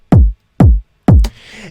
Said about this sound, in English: So I found a kick that sounds like this.